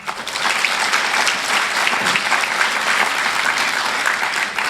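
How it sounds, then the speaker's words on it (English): An audience at the US India Chamber of Commerce annual women's conference breaks into sustained applause, a dense steady wash of many hands clapping that stays even and fairly loud for several seconds, with no one speaking. "So please give them a round of applause as well."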